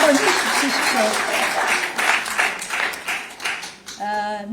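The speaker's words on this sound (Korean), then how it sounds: "박수 한번 주십시오" A large indoor political rally crowd, gathered for the launch event of a citizens' fake-news monitoring group, applauds steadily for about four seconds, with cheering voices mixed in before a voice cuts in near the end.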